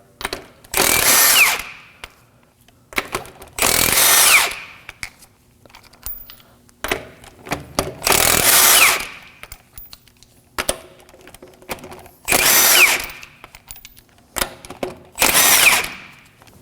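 A power tool fitted with a 19mm socket whirs in five loud bursts of about a second each, separated by quieter clicks and handling noise, as lug nuts come off a 2014-2020 Acura MDX front wheel.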